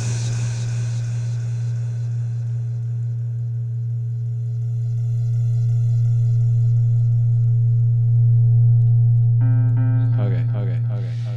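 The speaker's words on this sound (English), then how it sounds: "the reverb feeding into the delay. It's almost like UFOs approaching, or flying away in the distance." Reverb feeding into a delay effect produces a swelling, sustained low electronic tone with a faint chirping shimmer, like an approaching UFO, that grows louder midway before brief repeating echoed notes enter near the end.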